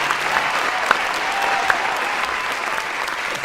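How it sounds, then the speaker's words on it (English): An audience claps warmly for a guest leaving the stage, sustained dense applause at moderate distance with a few sharper individual claps standing out. "Let's give her a big warm round of applause"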